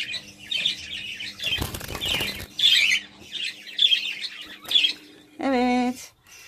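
Budgerigar chicks in a breeding box give raspy, repeated begging chirps at close range, interrupted by a burst of wing flapping and a harsher squawk near the end.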